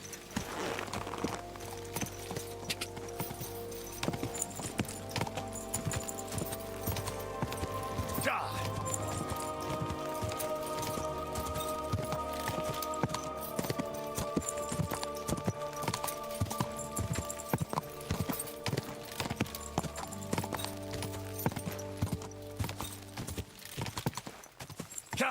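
Horse hooves clip-clop steadily in the video game Kingdom Come: Deliverance II, a continuous rhythmic trot lasting throughout over a sustained musical score, with occasional voices in the background.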